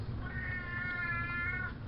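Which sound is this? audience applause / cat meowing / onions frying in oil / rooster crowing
cat meowing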